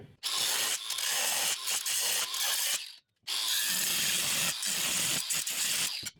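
A power tool cuts off broken welds on a jet boat bench, grinding loudly in two long bursts with a short pause between them.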